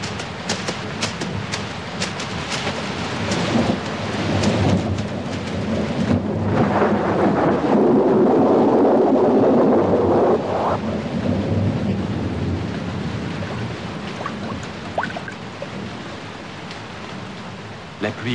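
Steady rain pours down during a thunderstorm, a broad continuous hiss with a deep rumble of thunder swelling in the middle, loud and close throughout.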